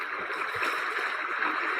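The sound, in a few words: recorded flowing water sounds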